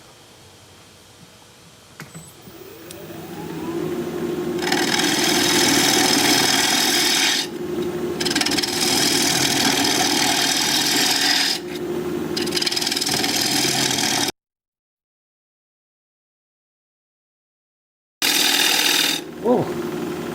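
Gouge cutting weathered, scarred mountain mahogany on a wood lathe, a loud steady rasping scrape that holds for long stretches, breaks off into silence, then resumes briefly.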